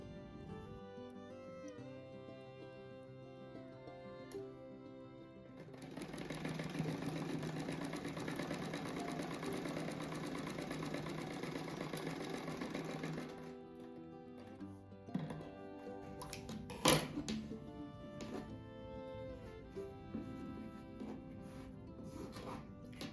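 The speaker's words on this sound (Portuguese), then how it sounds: "Então eu tenho que costurar esses dois aqui." A sewing machine stitches small patchwork rug pieces in one sustained run of about eight seconds, a steady whirring hum with rapid needle beats, close by, followed by quieter handling clatter.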